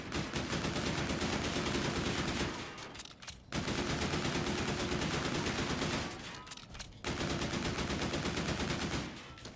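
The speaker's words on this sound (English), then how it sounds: "I'm going to start off shooting slowly and then speed up" Rapid pistol fire in the shooter Call of Duty: Infinite Warfare: three long, dense bursts of fast shots, loud and close, each broken by a brief pause, with no talking.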